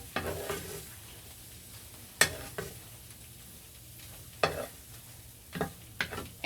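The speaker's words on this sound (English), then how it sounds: "you scrambled an egg in less than a minute" An egg is scrambled in a pan: a quiet sizzle runs underneath while a utensil scrapes and taps the pan in several sharp, irregular strokes, close by, with no talking.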